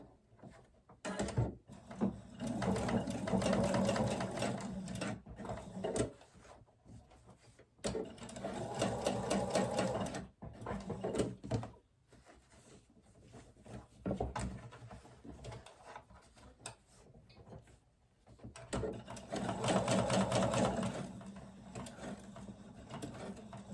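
A sewing machine stitching elastic onto a fabric face mask runs in three long, steady whirring bursts, close and loud, broken by short pauses with light handling clicks of fabric and the machine.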